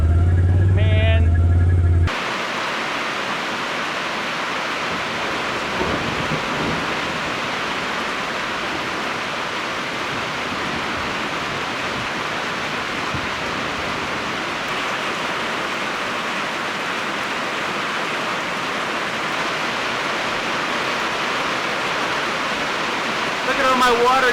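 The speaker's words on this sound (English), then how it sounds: "It just keeps raining harder and harder and harder and harder" Heavy rain pours down steadily outdoors, a dense continuous hiss that stays constant and fairly loud throughout, with a brief low rumble at the start.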